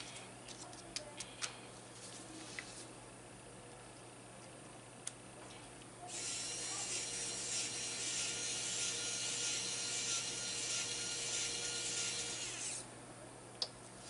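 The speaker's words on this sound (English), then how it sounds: "I'm just going to hand thread this" A small screw, dabbed with Loctite, is threaded by hand into a Vatera Ascender RC 4x4 kit: faint scattered ticks and clicks, then a steady close rasping grind through the middle before the quiet clicks return.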